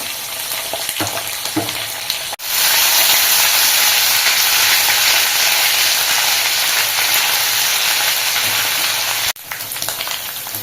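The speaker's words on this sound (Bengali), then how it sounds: "ভাজা হয়ে গেছে আদা রসুন" Ginger and garlic frying in a hot pan with oil, a loud, continuous close-up sizzle broken by brief stirring pauses near the start and end; no talking.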